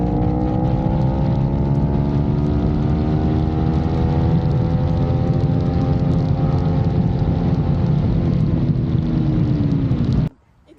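A street bike carrying strapped-on saddlebags cruises along the road, its engine a loud, steady drone with slowly falling harmonic tones and wind rush, until the sound cuts off abruptly near the end.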